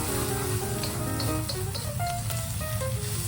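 Egg is scrambled in a hot pan of fried rice, giving a loud, steady sizzle with light scraping of the spatula and no talking.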